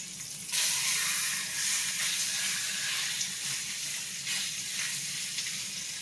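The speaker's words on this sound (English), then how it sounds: "That's the sound we're looking for. That nice sizzle." Chicken breasts sizzle and crackle steadily in a hot pan, a constant bright hiss with a few small pops.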